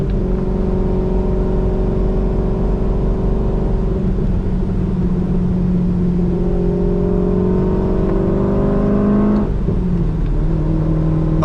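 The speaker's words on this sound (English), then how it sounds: "Oh, this car sounds so good." Cammed C5 Corvette with a six-speed manual, driven in the rain, its engine rumbling loud and steady from inside the cabin, with a rising rev and a shift change near the end.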